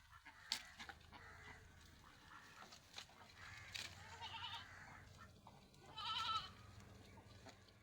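Crossbreed goat kids bleating on a farm, a few faint, scattered calls over low background noise.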